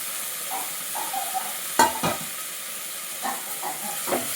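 Tomatoes tossed into a hot pan of frying ingredients for a bottle gourd and shrimp curry, giving a soft steady sizzle with a sharp clatter of a spoon or pan near the middle and a few lighter stirs.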